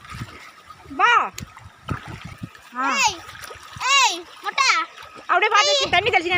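Children shout and call out excitedly while water splashes and sloshes around them outdoors.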